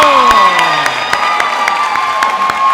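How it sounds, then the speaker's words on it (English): A crowd cheers, whoops and claps loudly at a pharmacy oath and awards ceremony, a dense close roar of voices and shouts with bursts of applause running throughout. "Big round of applause to group 4."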